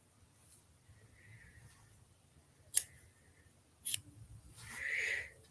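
Scissors snip through craft material twice in a quiet indoor setting, sharp brief cuts a second apart, followed by a soft rustle of handling.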